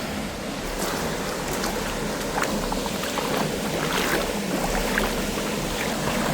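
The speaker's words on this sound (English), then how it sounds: "You can hear the waterfall." A waterfall on Vancouver Island makes a steady, broad rushing roar that fills the whole clip at an even level, with no voices over it.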